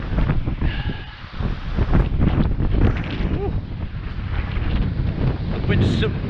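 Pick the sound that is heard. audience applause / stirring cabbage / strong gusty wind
strong gusty wind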